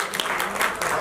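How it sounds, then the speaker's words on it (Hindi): An audience bursts into strong applause for Suresh Wadkar at a show launch and birthday event, a brief, dense patter of many hands at steady loudness. "एक जोरदार ताली बजा दीजिए।"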